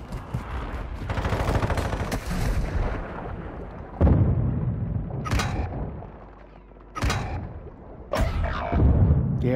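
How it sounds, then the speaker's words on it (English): Mortar strike explosions in Call of Duty: Modern Warfare II, several heavy booming blasts landing in sequence amid scattered gunfire, loud and close with brief lulls between impacts. "Hostile mortar strike incoming."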